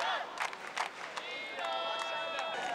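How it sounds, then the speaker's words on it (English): Crowd of Iranian supporters cheering at a men's under-87 kg taekwondo final at the 2015 Universiade in Gwangju, a sustained noisy roar of voices and shouts with bursts of clapping throughout. "And the Iranian faithful cheering him on."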